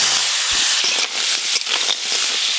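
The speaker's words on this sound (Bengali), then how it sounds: "এবার সুন্দরবনের কাঁকড়া আর দাঁড়া একসঙ্গেই ভেজে নেব" Sundarbans crab pieces and claws fry in hot oil with a loud, close, continuous hissing sizzle and a few crackling bursts.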